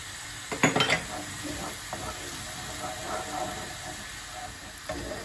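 Onions, garlic and peppers sautéing together in a pot for an orman kebabı, a soft continuous sizzle with a short burst of utensil clatter near the start and faint knocks later.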